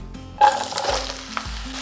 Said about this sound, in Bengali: এরপরে লাউটাকে একটু হাই ফ্লেমে রেখে ভাজা ভাজা করে নেব, মানে একটু নাড়াচাড়া করে নেব।